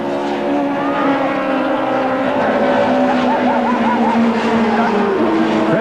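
Audi Quattro touring cars racing, engines roaring loudly and continuously with pitch sweeping up and down through gear changes and a faint tyre squeal, heard close and without talking.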